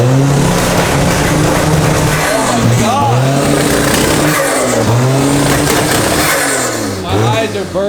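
A Toyota-powered Mazda engine on two-step launch control revs hard and loud, bouncing off the limiter in rapid popping, crackling bursts that rise and fall in repeated waves, with a misfire and voices under the noise.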